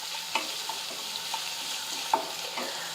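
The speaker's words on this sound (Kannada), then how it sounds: "ಈಗ ನೋಡ್ರಿ ಉಳ್ಳಾಗಡ್ಡಿ ಫ್ರೈ ಆಗ್ಯಾವು" Onions sizzle steadily in a hot pan, with occasional soft scraping stirs; quiet and continuous, no voices.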